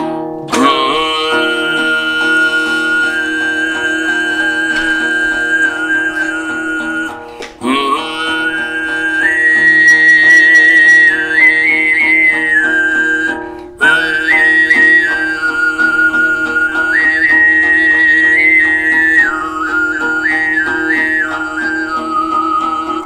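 Kalmyk throat singing in the whistling style: a low steady drone with a bright, piercing overtone melody gliding above it, sung in long unbroken phrases.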